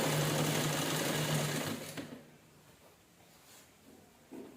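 A sewing machine runs steadily for about two seconds, stitching a cloth bag with a close, rapid whirring hum, then stops, leaving faint handling noises and a soft knock near the end.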